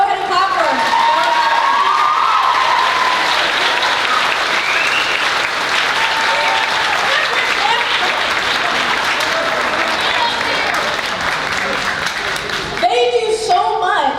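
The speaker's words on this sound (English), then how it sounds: "go ahead and clap for them" A school spring-concert audience applauds the band directors with loud, sustained clapping and scattered cheers and whoops, filling the room for the whole stretch before voices and a closer sound break in at the end.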